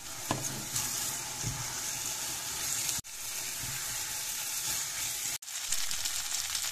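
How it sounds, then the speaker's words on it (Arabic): Rice is stirred and sautéed in a pan, sizzling steadily with scraping stirs, loud and alone with no talk, with two abrupt breaks in the sound. "وبعد كده هضيف الرز واشوحه كويس الاول."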